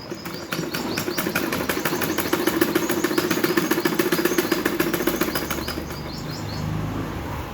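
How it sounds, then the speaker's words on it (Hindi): A domestic sewing machine stitches a thick seam through a lined salwar suit, a rapid steady needle clatter running close and loud for nearly the whole stretch, easing slightly toward the end. "अब देखो मैं इसे ऐसे दबा के इसमें मोटी सिलाई लगा लूँगी"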